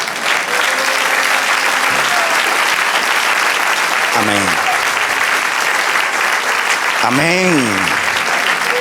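A church congregation gives loud, continuous applause during a Spanish-language sermon. Voices call out over the sustained clapping, with a few tonal shouts rising above it.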